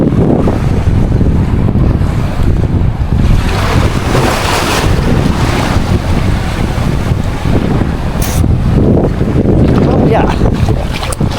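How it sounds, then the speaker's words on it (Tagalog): Strong sea waves crash and surge on an island shore under heavy gusting wind that buffets the microphone, a loud, continuous roar with breaking swells rising and falling throughout. "Lakas lang talaga guys ng alon."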